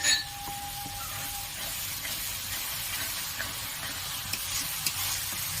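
Tomato paste and spices frying in oil in a pan while being stirred, for a Bengali katla fish kalia; a steady close sizzle with occasional light scrapes and clinks of the spoon, no talk.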